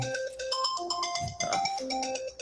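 A mobile phone ringtone goes off during a live talk show, playing a bright, melodic electronic tune of stepped tones that rings steadily and fairly loud for the whole stretch, with no talking over it.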